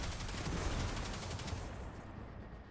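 The Risk Runner submachine gun fires in Destiny 2, a rapid, dense burst of automatic gunfire that holds steady and then trails off into a fading rumble, with no speech.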